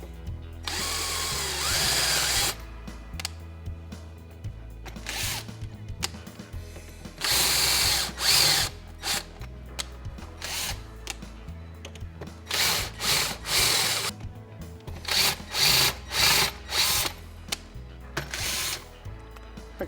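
An electric drill drills out rivets in repeated short bursts, revving up and stopping between each, loud and close with no talking.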